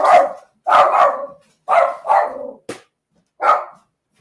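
A small dog barks in short bursts, about five or six sharp, close barks with pauses between them, loud and alone without talk.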